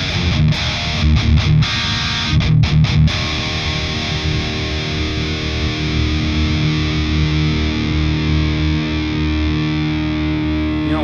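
Heavily distorted high-gain electric guitar played through an Aura Amps Diamond preamp, a Rectifier-style unit, with several choppy palm-muted chugs giving way to a long sustained, saturated chord ringing out loud and alone.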